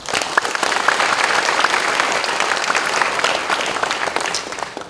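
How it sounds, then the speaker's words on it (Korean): A church congregation applauds during a dedication and thanksgiving service, a loud, sustained wash of many hands clapping steadily throughout with no talk over it. "진심으로 감사와 박수를 보내드립니다"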